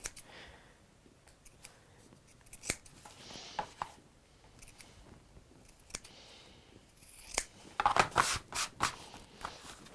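Scissors cutting and trimming fabric in a textile craft session, heard as scattered crisp snips and rustles, faint at first and then a denser burst of close, sharp cuts near the end.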